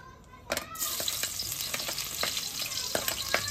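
Garlic frying in a pan for a home-cooked balbacua dinner, a steady close sizzle with crackling bursts and occasional stirring clinks, no talk over it.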